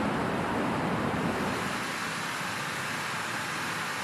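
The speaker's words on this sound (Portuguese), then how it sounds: "Seguimos o som da água até encontrar outra maravilha natural de Java." Steady, dense roar of rushing water from Tumpak Sewu waterfall in Java, a constant broadband wash with no pauses, holding loud throughout and easing slightly toward the end.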